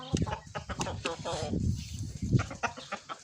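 Chickens cluck close by in short, uneven bursts, several hens chattering over one another with no talk.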